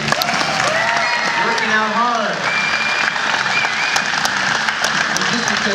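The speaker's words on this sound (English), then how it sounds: "how about a big round of applause for these two?" Gym audience breaks into sustained applause and cheering for two people after a shoulder workout, clapping steady throughout while a voice talks over it.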